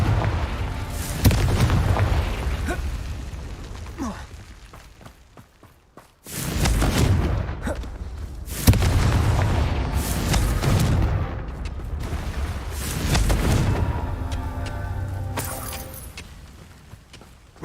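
Repeated fiery spell explosions from the Confringo curse in the video game Hogwarts Legacy, loud booming blasts spaced a few seconds apart, with crackling debris and rumble between them and no talking.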